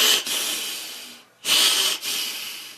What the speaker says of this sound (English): Quit breathing so heavy.